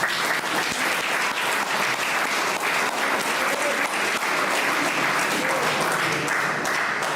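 Audience applause at a Sardinian poetry contest in Ardara, a steady, dense clapping from a full hall that holds evenly throughout without any speech over it.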